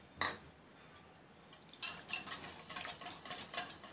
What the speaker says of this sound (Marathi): दही फेटून घेऊयात चांगलं